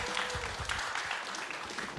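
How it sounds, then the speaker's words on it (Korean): Applause from a crowd at a StarCraft pro league esports winner interview, a steady wash of clapping that holds for the whole moment, with a few low thumps underneath. "큰 박수 부탁드릴게요."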